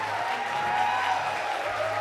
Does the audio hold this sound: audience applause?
yes